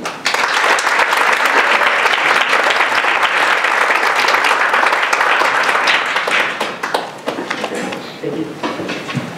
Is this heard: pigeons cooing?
no